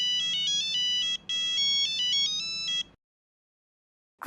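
An electronic phone ringtone plays a bright, repeating melodic pattern of short tones for about three seconds, loud and clear, then stops abruptly into silence.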